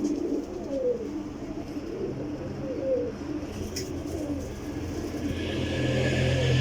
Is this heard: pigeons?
yes